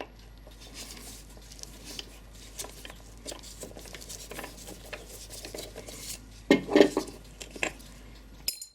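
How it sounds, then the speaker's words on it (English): Small screws from a Japanese 40-day wall clock clink and rattle into a dish during a repair, with light metallic taps and handling noises scattered across the clip, growing louder toward the end. "Put them aside in the dish as usual so we don't lose them."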